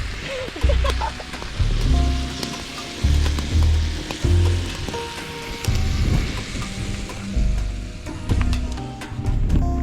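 Steaks sizzling and crackling loudly in a frying pan outdoors by a lake, a dense continuous fry with low thumping handling bumps recurring every second or two and no talk.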